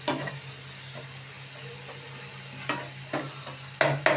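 Finely chopped ingredients for a ribbonfish curry are sautéed in a pan with a low, quiet sizzle, punctuated by several sharp spoon scrapes and knocks that come closer together toward the end. No speech.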